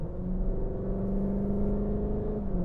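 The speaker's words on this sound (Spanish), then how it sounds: "cambia el sonido de la admisión y yo creo que entra algo de sonido artificial por el sistema de sonido del coche" A plug-in hybrid car's engine intake, artificially enhanced through the car's sound system with a gurgling tone, hums steadily and close up throughout, with no voices over it.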